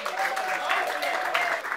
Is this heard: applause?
yes